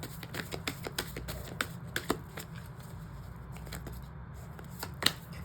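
Oracle cards are shuffled in a steady run of crisp riffling snaps, close and fairly quiet, with a brief pause and a final sharper slap near the end.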